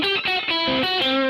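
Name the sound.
guitar through Origin Effects Revival Drive overdrive, Marshall-type setting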